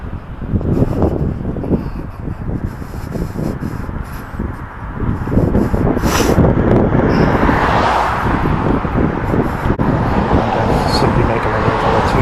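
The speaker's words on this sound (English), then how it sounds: "So there's swarm of cars here." Heavy street traffic fills the air with a dense, continuous roar of many passing cars, rising and falling as vehicles go by close to the microphone, with wind buffeting throughout.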